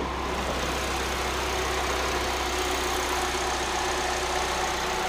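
A 2008 Chevrolet HHR's 2.2-liter engine idles under the open hood, a steady smooth hum close by with constant low rumble and no voices.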